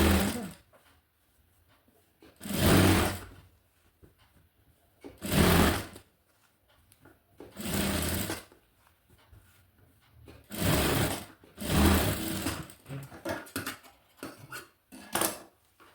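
A sewing machine stitches fabric in several separate bursts of steady whirring, each lasting a second or two, with quiet pauses and small handling clatter between runs.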